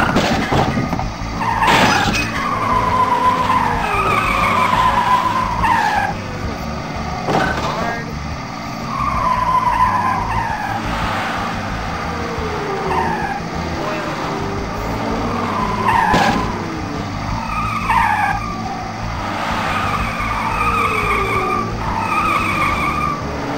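Cartoon race cars skid and squeal their tires in a children's racing video game, several sweeping screeches over a busy, continuous bed of engine and game noise.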